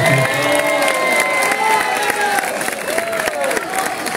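Crowd applause and cheering at a lively community festival event in Catalonia, dense clapping with shouts and whistles, children's voices mixed in, steady and fairly loud throughout.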